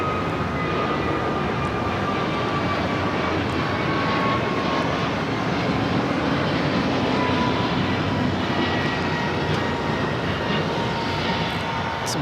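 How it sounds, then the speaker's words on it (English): American Airlines Airbus A321neo jet bound for Honolulu at LAX, giving a loud, continuous engine roar with a faint whine on top that holds steady and close the whole time. "American Airlines Flight 297 headed to Honolulu on an A321 Neo."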